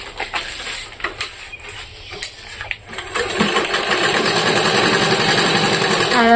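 A sewing machine, jammed from long disuse, stitches a rice-sack bag: a few scattered mechanical taps at first, then a loud, steady, rapid whirring rattle of continuous stitching that carries on to the end.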